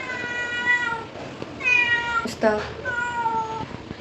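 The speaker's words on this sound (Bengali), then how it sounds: "আজকে একদম ঘরে ঢুকে আমার পাশে মেয়াও মেয়াও করছে" A black cat meows repeatedly indoors, several drawn-out, loud, close meows in sequence with short pauses, someone speaking faintly between them.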